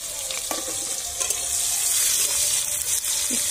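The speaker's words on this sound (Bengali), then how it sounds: "এবার কড়াইতে দিয়ে দিলাম পেঁয়াজ কুচি" Chopped onions spit and crackle in hot oil in a wok for a village-style fish chachchari, a close, continuous sizzle with faint stirring clinks throughout.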